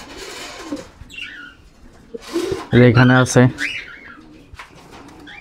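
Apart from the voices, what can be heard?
pigeon cooing and flapping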